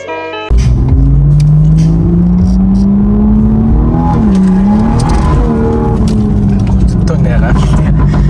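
A BMW M140i stage 2 engine roars loud and close, revving steadily upward in pitch, with a brief dip midway before climbing again.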